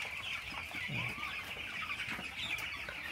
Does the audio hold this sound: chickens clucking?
yes